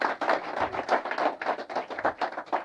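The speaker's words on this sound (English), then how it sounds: "Give a hand clap again" An audience claps its hands in a steady unison rhythm, each loud clap evenly spaced in a quick, regular beat for a few seconds, with no talking over it.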